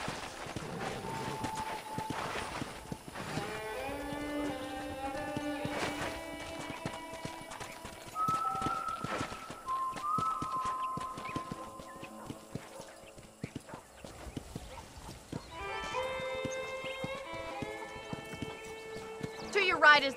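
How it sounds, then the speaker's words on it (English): Horse hooves clip-clop on a ranch in the Red Dead Redemption video game, rhythmic steps under music and dialogue, with a neigh among them. "I picked out a fine horse for you."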